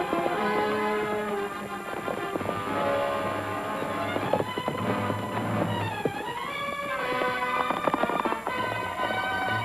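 A group of horses gallops over open ground in a frontier Western scene, hooves drumming continuously and loudly, mixed with rumbling movement and a brief whinny-like tone.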